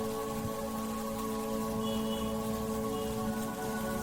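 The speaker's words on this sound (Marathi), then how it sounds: "पाऊस खूप सुंदर आहे, छान थेंब थेंब थेंब थेंब" Steady rain falls in a continuous soft patter of raindrops, with a constant tonal hum running underneath and no voices.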